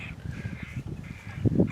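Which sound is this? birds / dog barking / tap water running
birds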